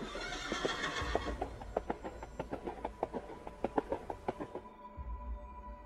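A horse whinnies loudly at the start, then hooves clop in a quick, steady rhythm that grows prominent before cutting off abruptly, a staged effect with no talk over it.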